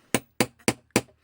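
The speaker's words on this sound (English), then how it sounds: "Otherwise, get your hammer." A hammer drives a hole punch through fabric while a traveller's notebook cover is being made, giving four sharp, loud bangs in an uneven rhythm, each dying away quickly.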